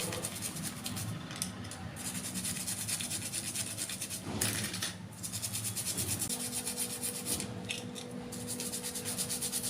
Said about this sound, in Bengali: হালকা হাতে একটুখানি ঘষলেই সুন্দর পরিষ্কার হয়ে যাচ্ছে